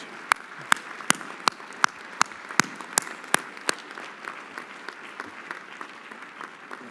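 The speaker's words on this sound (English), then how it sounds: "Give them a round of applause." Graduates at a December graduation ceremony applaud their families and friends, a sustained round of clapping from a large group with sharp, regular claps standing out early before settling into a softer, even patter.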